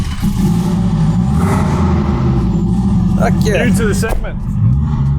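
A Renault 5 Turbo 2 rumbles along with a steady low engine drone and road noise filling the cabin, while people talk over it.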